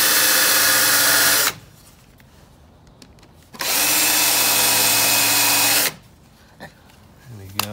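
A power drill spins a bit recessing holes in wood for a porch post wrap, running in three loud, steady bursts separated by brief quiet gaps.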